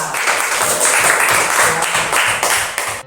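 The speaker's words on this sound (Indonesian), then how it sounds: "kita berikan tepuk tangan untuk kelompok A" Classroom applause for student group A after their presentation, a dense steady clatter of many hands clapping at close range for about three seconds, fading at the end.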